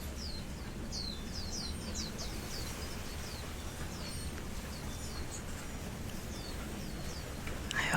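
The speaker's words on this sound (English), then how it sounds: "I hope you can hear those birds in the background too." Birds sing in the background of a garden, a string of faint, short chirps repeating over a low steady hum, with no voices.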